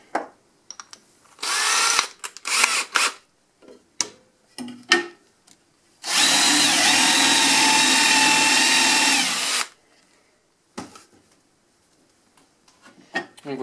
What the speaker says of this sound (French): On va le faire sur la perceuse directement, ce sera plus simple.